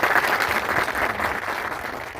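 Hearty audience applause at a gathering, a loud, continuous patter of many hands clapping for the full length without letting up.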